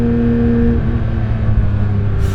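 Porsche 992 GT3 RS engine on Susten Pass heard from inside the car with the window partly down, a loud steady droning rumble with a sustained tone that shifts slightly as it pulls, filling the whole clip with no talk.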